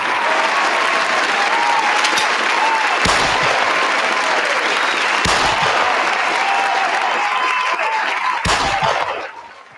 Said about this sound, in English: let me go and give you the hand claps and the gunshot